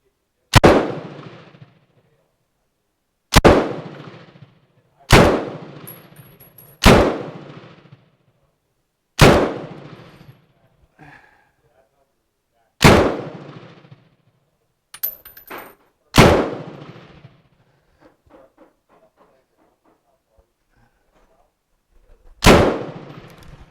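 A Bren MK2 .303 light machine gun, still experiencing issues, fires about nine sharp, loud single shots at irregular intervals, each ending in a short echoing decay, with faint sounds in the quiet gaps.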